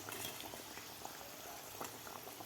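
Matar kachori fry in hot oil, a faint, continuous bubbling fizz with small pops, steady and even throughout, with no voices.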